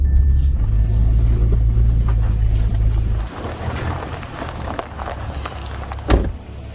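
A Subaru 4WD rumbles at low speed, its deep engine drone easing as it turns onto a rough, poorly maintained dirt track, followed by lighter rattling and a brief bump near the end.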